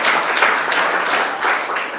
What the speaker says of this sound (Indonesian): Tepuk tangan dulu untuk Juni.